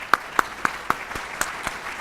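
Audience applauding a logistics summit panel, heard as a short run of spaced, fairly distinct claps over a low room background, moderately loud and with no talk.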